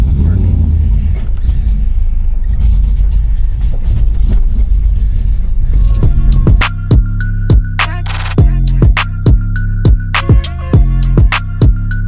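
A 1992 Chevy C1500 pickup with a swapped LS1 V8 and T56 manual drives along: a steady engine rumble gives way after about six seconds to repeated rising revs through gears, loud and close, with a voice talking at the start.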